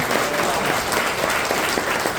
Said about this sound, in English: A round of applause for this great guy